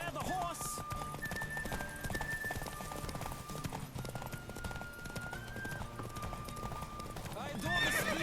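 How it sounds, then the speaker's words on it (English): A horse in The Witcher 3 gallops with steady clip-clop hoofbeats, neighs at the start and again near the end, and carries on under continuous game sound and voices. "Don't spare the horse!"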